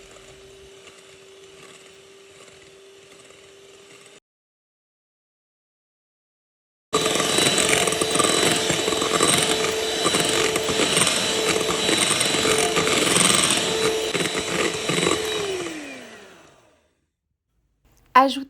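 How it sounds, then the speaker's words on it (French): An electric mixer whips egg whites until stiff, starting with a faint hum that cuts out, then a loud steady mechanical whir for about ten seconds that winds down and stops. "Commencez par fouetter les blancs d'œufs jusqu'à ce qu'ils soient bien fermes."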